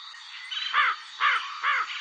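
Crow giving three evenly spaced harsh caws, clear and fairly close, over a steady hiss of background noise.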